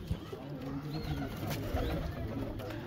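Pigeons coo softly on a rooftop in Amroha, a few low, murmuring calls repeating over faint background noise, with occasional small thuds and distant ambience.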